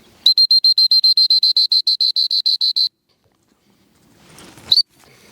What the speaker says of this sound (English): I'm going to use my whistle.